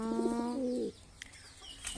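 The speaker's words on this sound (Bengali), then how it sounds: "এই লক্ষা কবুতর।" A fantail pigeon gives a short, close, resonant coo lasting under a second, followed by quiet room sound and a few faint chirps.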